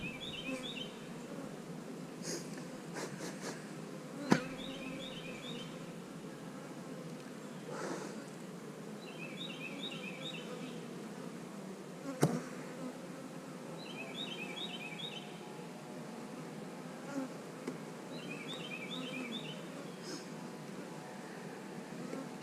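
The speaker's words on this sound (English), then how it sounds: "A lot of bees on there working." Honeybees working over a hive frame during an inspection, a faint steady buzzing hum throughout with a few sharp knocks and distant bird chirps in the background.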